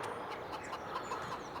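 Young chickens on a farm flock, with soft scattered clucks and chirps over a steady faint background murmur, fairly quiet and continuous with no voices.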